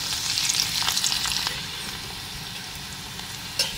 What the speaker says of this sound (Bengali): তো কড়াইয়ের মধ্যে আমি ফোড়নের জন্য দিয়ে দিচ্ছি গোটা জিরে কয়েকটা